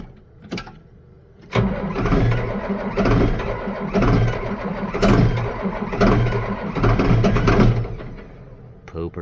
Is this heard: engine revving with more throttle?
yes